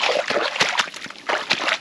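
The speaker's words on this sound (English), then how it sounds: "Lovely drop of water flowing." Wellington boots wading into a small flowing countryside stream in early spring, with irregular sloshing and splashing steps through shallow water close by, each stride a short watery surge.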